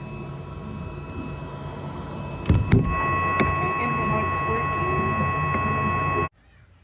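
An Xtool M1 laser cutter scoring pieces, a steady mechanical hum with faint high whine and a few sharp clicks partway through, ending abruptly in near silence.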